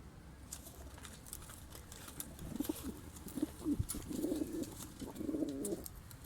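Breeding pigeons coo softly in a few low, rolling bursts against a quiet background hiss, with occasional faint chirps.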